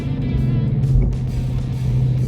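A deep engine rumble holds steady and loud, a 2024 Ford Mustang GT V8 with manual gearbox, Performance Pack and active exhaust idling or cruising close by with a low, throaty exhaust note.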